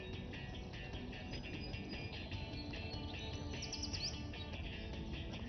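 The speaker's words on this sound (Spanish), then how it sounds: "Ahí están esos pajaritos otra vez." Small birds chirp in quick bursts over a dense, steady background noise, a brighter trill standing out briefly near the end.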